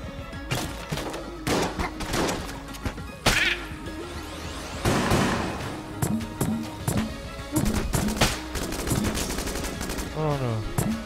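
A shirt cannon fires in the Enter the Gungeon video game, a rapid run of sharp, punchy shots and thuds with bursts of game effects, while a player talks over the action.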